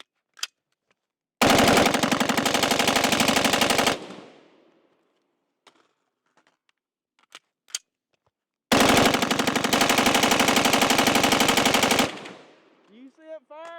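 A PWS MK111 Mod 2 rifle fires in two long, loud, close bursts of rapid automatic fire during a meltdown test, separated by quiet gaps with faint clicks. A short vocal whoop follows at the end.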